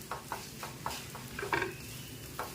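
Millet (varai) dosa frying in a little oil on a pan, a soft steady sizzle with a few light scraping and tapping touches, close and moderately quiet.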